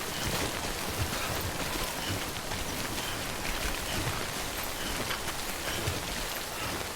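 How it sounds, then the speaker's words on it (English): Steady, moderately loud rain falls without a break in the Death Stranding video game, a dense even hiss with no voices and no thunder. "Is there a place we can wait out the rain over here?"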